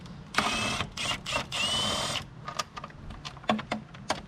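A power tool, likely a drill or impact driver, removing 10mm bolts from a shroud on a Mazdaspeed 3, heard in several short whirring bursts close by, followed by lighter clicks and taps.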